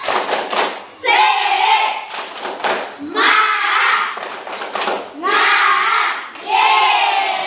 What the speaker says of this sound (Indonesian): Coba tepuk semangatnya, tepuk semangat.